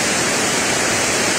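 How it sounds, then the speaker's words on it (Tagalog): Strong floodwater rushes past on a rainy afternoon, a loud, steady broadband roar of churning water heard close by with no voices. "ang lakas ng tubig dyan, oh. Pumaragasa yung tubig"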